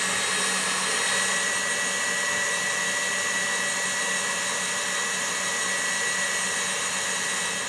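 An electric mixer whisks egg whites toward smooth, firm peaks, giving a steady, unbroken whir at even loudness for the whole stretch, with no voices.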